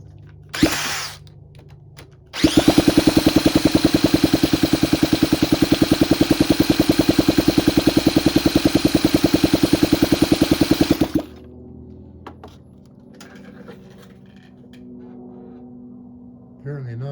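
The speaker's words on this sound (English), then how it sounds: "Let's try choking and see if that makes any difference." A 1967 Honda CT90 motorcycle engine with the choke on is cranked in one long, loud bout of rapid, even mechanical pulses lasting about nine seconds, then cuts off without catching, leaving only faint background noise.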